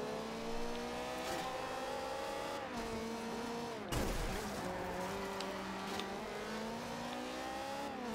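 A car drifting in Forza Horizon 2, its engine holding a sustained revving whine that rises and dips as the tires squeal through the slide, with a sharp thump midway; no talk.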